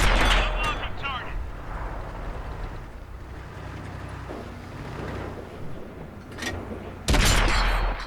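Tank main gun shots in World of Tanks, the STB-1, booming loudly at the start and again near the end over a steady rumble of engine and battle noise.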